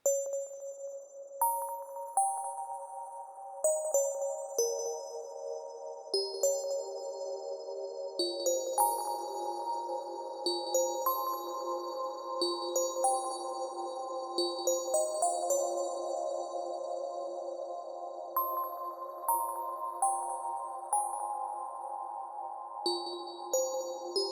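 Bright FM-synthesized bell tones ring out in layered, overlapping notes, each sustained by a long, washy reverb tail, forming a slow, shimmering melodic pattern.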